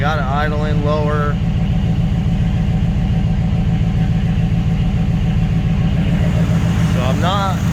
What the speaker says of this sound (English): But I got it idling lower.